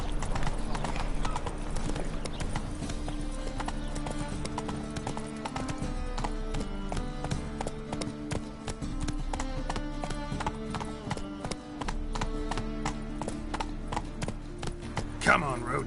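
Roach, the horse in The Witcher 3, trots with a steady, close clip-clop of hooves that runs throughout under continuous background game music.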